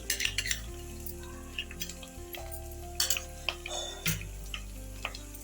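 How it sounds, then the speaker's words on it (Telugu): Mixed masala goes into onion, ginger and garlic paste frying in a pan, with a soft sizzle under clinks and scrapes of a spoon stirring against the metal. "ఇందులో మనం మిక్స్ చేసుకున్న ఈ మసాలా మొత్తం వేసేది"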